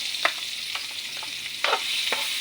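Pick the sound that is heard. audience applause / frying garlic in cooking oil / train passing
frying garlic in cooking oil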